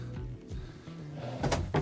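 A drawer in a new 2022 Newmar Dutch Star 4369 motorhome slides open and shut, a few soft wooden thumps and knocks close by with a sharper clatter near the end.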